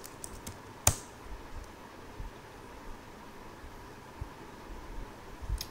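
Keys clatter on a computer keyboard in quiet, scattered taps with one sharper click near the start, faint and close against low room hiss.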